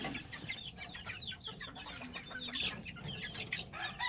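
Noisy chickens and young chicks cluck and cheep continuously at afternoon feeding time, a dense, busy chorus of overlapping calls close by, with no voices.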